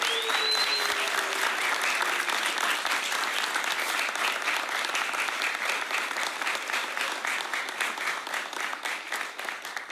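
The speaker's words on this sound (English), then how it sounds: "2601, you owe your family another round of applause." Families and guests at an academy graduation ceremony applaud, a broad, sustained roar of many hands clapping in a large space, steady and loud, with a brief whistle near the start.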